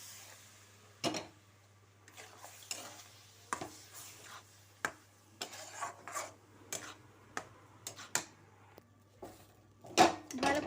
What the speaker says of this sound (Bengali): একটু একটু করে দুধ দিয়ে ভালো করে একটা ডো বানিয়ে নেব।